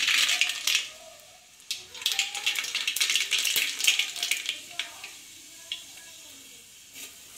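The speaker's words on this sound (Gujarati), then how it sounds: "રાઈનો વઘાર કરીશું." Mustard seeds crackle and pop in hot oil with asafoetida for a tempering, sharp scattered ticks and rattles that come in dense bursts early on and then thin out into sparse, close pops.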